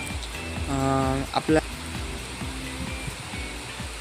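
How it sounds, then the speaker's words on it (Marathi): Heavy rain falls on a pomegranate plot as a steady, dense hiss, with someone talking over it throughout. "एवढा जोरात पाऊस आलेला आहे"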